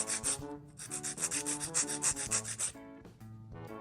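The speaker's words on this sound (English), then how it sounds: "So I'm just gonna file down just a little bit underneath." Quick repeated rubbing strokes of a nail file scraping underneath a fingernail, a steady back-and-forth rasp up close with a brief pause near the end.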